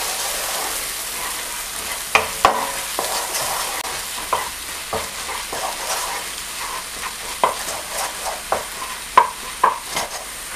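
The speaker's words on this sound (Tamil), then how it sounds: "அதுக்கப்புறம் எல்லாம் மிக்ஸ் பண்ணி விடுங்க லைட்டாக" Chicken kothu parotta with pepper is stirred in a pan, a steady sizzle broken by repeated sharp scrapes and clinks of a spatula against the metal, close and fairly loud with no voices.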